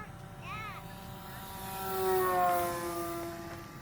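A Horizon Hobby Timber 1.5 RC model airplane on floats whines steadily at a distance in flight, its pitch rising and swelling louder midway, with a faint voice in the background.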